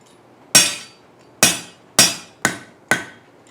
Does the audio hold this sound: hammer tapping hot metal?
yes